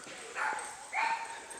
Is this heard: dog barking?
yes